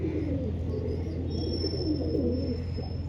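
A Shahjahanpuri male pigeon at a Lucknow pigeon market coos in a faint, low, rolling murmur over a constant background hum, with no one speaking.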